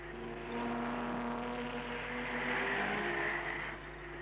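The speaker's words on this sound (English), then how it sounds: "The 550-horsepower Silver Arrows breaking into a thunderous roar, which shakes the grandstand to its foundations" Mercedes W125 Silver Arrows race cars, 550-horsepower 5.7-litre machines, roar at a race start, a steady, loud engine drone that swells and holds, with a high whine above it and no voices.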